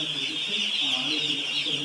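Young chicks peep and cluck continuously in a flock, a dense high chirping chorus close by.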